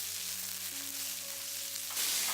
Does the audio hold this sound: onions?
yes